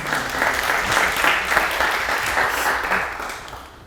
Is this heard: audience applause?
yes